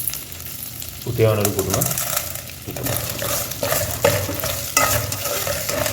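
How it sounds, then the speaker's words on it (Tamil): Chicken pulao frying in a pan, with a steady sizzle and scraping stirs that come and go. Someone speaks briefly over the cooking noise. "கொஞ்சம் நல்லா ஃப்ரை ஆகட்டும்"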